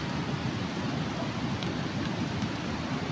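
Steady rain falls outdoors, a dense, even hiss of drops on surfaces with a low rumbling undertone, constant and close throughout with no voices.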